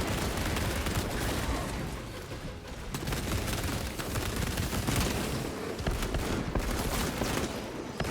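Heavy bolter fire from the Heroic variant in Space Marine 2, a loud, dense and continuous roar of rapid gunfire with booming impacts, sustained for the whole stretch with only brief dips.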